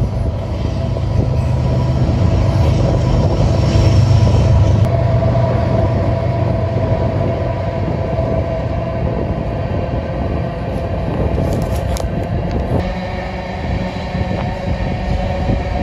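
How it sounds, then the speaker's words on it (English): A train rumbles past steadily, a continuous heavy low roar with rattling and a brief metallic squeal near the end, no voices. "And I hear a train coming."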